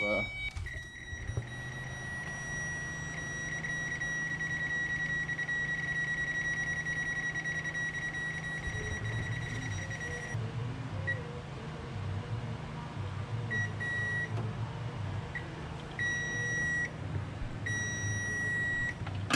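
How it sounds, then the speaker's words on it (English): An automotive diagnostic beeper on an LS3-swapped Miata emits a steady high-pitched continuous tone, briefly cutting out around the middle and then sounding in short repeated bursts, over low engine or shop hum with someone speaking. "I'm gonna turn on my beeper"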